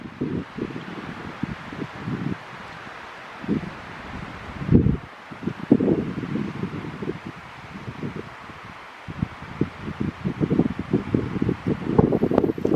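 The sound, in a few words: wind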